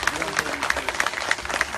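Audience applause at a concert in Alanya, a steady wash of many hands clapping close by with rhythmic peaks, some voices mixed in underneath.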